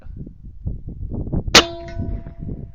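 A single rifle shot fired at night through an Oneleaf Commander NV500 day/night scope cracks sharply mid-clip, followed by a ringing metallic tail, set against a low, steady outdoor background.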